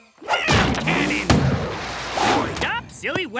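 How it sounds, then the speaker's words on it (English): A cartoon ham cannon fires with a sharp burst, set amid loud, excited cartoon voices and shouting that run throughout. "Ham cannon!"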